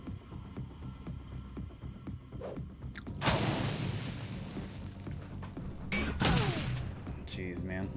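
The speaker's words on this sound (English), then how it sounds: "The phosphorus grenade, we'll do that." A phosphorus grenade goes off in the game Shadowrun Dragonfall with a sudden loud burst, followed by a long crackling, sizzling wash of noise and a second flare near the end, over a low game soundtrack.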